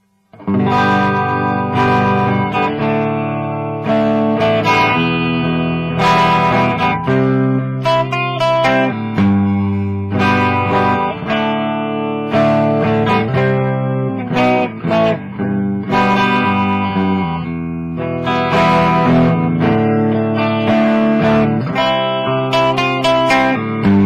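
An electric guitar played through a Randall RX120RH amp's clean channel with reverb, both pickups on and the amp wide open, rings out in loud sustained chords and picked notes continuously with no talking.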